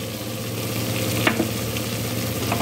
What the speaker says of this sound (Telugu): వేసి బాగా నూనెలో వేయించాలి. పొడులన్నీ పచ్చివాసన పోయే వరకు.